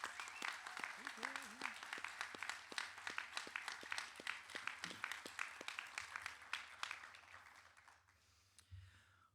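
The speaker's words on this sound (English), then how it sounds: "help me thank them for their efforts by helping me give them a warm round of applause" Guests clap at a Coast Guard recruit graduation at Training Center Yorktown, a dense run of applause that thins toward the end, with faint voices underneath.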